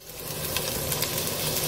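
Bacon frying in a pan while cooking a Romanian green lettuce soup with egg, a steady close crackling sizzle holding at even loudness throughout, with no talking.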